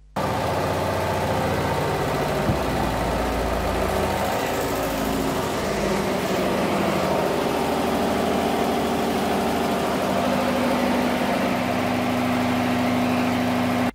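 A diesel engine on a test rig runs with zero dynamometer load during a load test, a loud, steady idling rumble with constant vibration that holds unchanged throughout.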